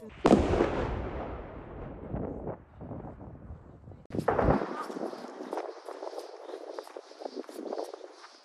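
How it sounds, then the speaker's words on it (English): A sharp, heavy boom of artillery shelling followed by rumbling, then a second blast a few seconds later, a few blocks away in Vuhledar, Ukraine, with wind noise buffeting the microphone. "We are hearing explosion a few blocks away right now."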